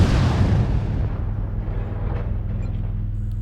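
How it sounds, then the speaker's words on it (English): Missile impacts striking a Commando mech's rear armor in MechWarrior Online, a dense rumbling barrage of booms that fades into a steady low mechanical drone. "The rear armor is getting hit by the missiles."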